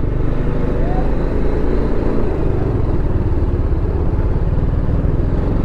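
Several motorcycles, among them a TVS Apache RR310, ride along a highway just past a toll plaza, producing a steady, loud engine roar mixed with wind rush that stays constant throughout.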